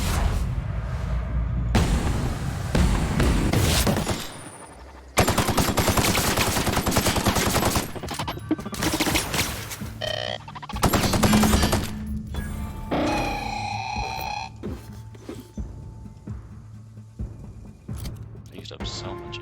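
Gunfire in The Outer Worlds comes as repeated loud bursts and rapid volleys spread over several seconds, with gaps between them and mechanical clicks and clatter in the lulls.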